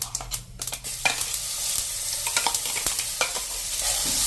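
Chutney paste with kalonji seeds roasting in oil in a pan, giving a steady close sizzle with occasional stirring scrapes and crackles throughout, no voices.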